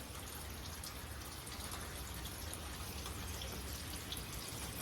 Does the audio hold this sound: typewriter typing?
no